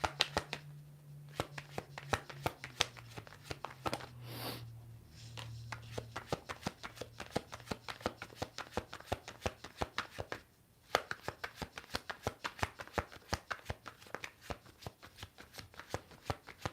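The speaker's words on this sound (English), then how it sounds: "These cards are so hard to shuffle" Tarot cards are riffled and snapped repeatedly in quick, crisp bursts, close and fairly loud, with a low hum underneath and one short pause.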